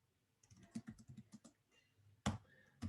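Code being typed on a computer keyboard, a close, crisp run of quick irregular keystrokes, then a pause and a louder clack of keys near the end.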